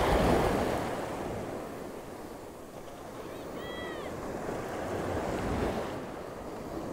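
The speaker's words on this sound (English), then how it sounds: "Some of these big old waves coming in." Ocean waves break and wash continuously on Waxham beach in north Norfolk, close and steady, with wind buffeting the microphone and a faint high bird call partway through.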